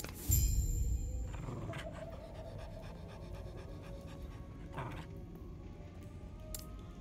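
A dog pants in the Last Epoch video game, rapid breathy huffs that stand out loudly at first, then settle into fainter rhythmic panting under soft game ambience.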